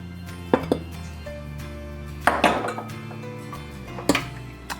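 Batter for a boozy peach upside-down bundt cake being mixed with flour in a bowl, giving a few sharp clinks and scrapes of the utensil against the bowl at irregular intervals over a quiet background, with no talking.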